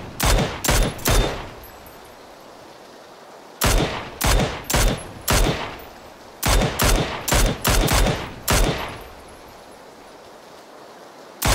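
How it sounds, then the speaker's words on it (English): Machine-gun fire aimed at the player in PlayerUnknown's Battlegrounds in the rain, loud rapid bursts in several clusters separated by short pauses over a soft hiss of rain. "I don't know who the fuck keeps shooting me"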